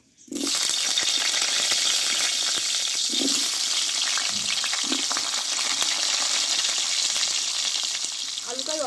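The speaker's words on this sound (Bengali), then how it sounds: "অল্প একটু হলুদ দিয়ে দেবো এই আলুগুলোকে আমি একটু কষে নেব" Cut, washed potatoes fry in hot oil with a little turmeric, a dense, even sizzle close by throughout, broken by a few soft metallic taps and clinks.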